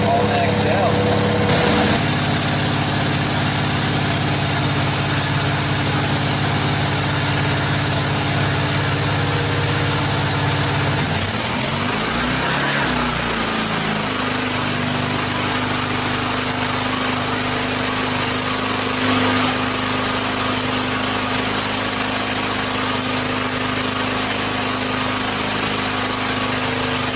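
A Lincoln Electric welder/generator engine runs at full throttle, a loud, steady, close drone. Its pitch dips briefly partway through before it settles back to a constant roar.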